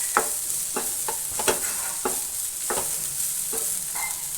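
Cutlet mixture being stirred and sautéed in a pan with pepper powder, a spoon scraping in repeated strokes over a steady close sizzle of frying.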